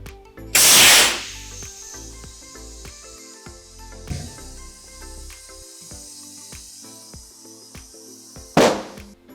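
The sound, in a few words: air inflator blasting air into tire to seat it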